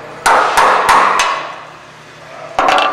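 A hammer taps a cotter pin out of a chain adjuster with a piece of wood held behind the pin: four sharp, loud metallic strikes in quick succession, a pause, then a fast cluster of three more.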